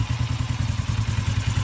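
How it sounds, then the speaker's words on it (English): A restored classic Suzuki GS450L motorcycle engine idles steadily through a quiet exhaust, a close, even low putter with a regular rhythmic pulse and no talking. "The exhaust is nice and quiet now."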